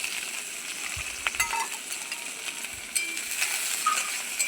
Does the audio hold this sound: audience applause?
no